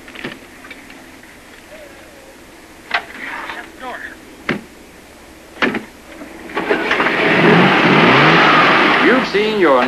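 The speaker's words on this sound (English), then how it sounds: "Now let's see if the engine will start." A 1963 Chevrolet Chevy II is started after a crash test: a few sharp bangs and clunks under a narrator's voice, then the engine catches and revs loudly and steadily to the end.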